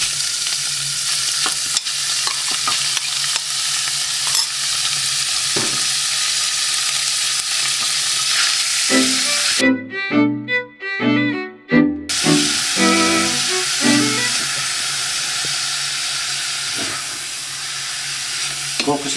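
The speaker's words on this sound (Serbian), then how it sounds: "Dodaj meso u ovaj luk i mešam." Minced meat fries with onion in a pot while being stirred, giving a steady loud sizzle and hiss with scraping stir sounds; a brief voice cuts in midway before the sizzling resumes.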